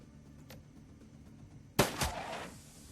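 Gunfire from the video game Shadowrun: Dragonfall: a sharp, loud shot after a quiet stretch, followed by a second blast and a short decaying tail, with a faint click earlier.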